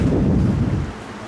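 A thunderstorm with rain makes a loud, steady, low rumble and wash of noise close by, easing slightly toward the end, with no talk.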